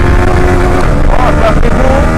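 A loud Honda CB150X motorcycle engine roars steadily up close, its pitch rising slightly as it revs toward 11,000 rpm.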